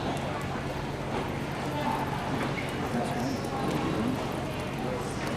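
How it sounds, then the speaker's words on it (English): Hooves of a gaited horse in the fast Paso Largo gait, with long extended strides and little collection, beat steadily under a broad, noisy wash of outdoor sound. "They also do a Paso Largo, which is the fastest speed with longer extension and stride with minimal collection."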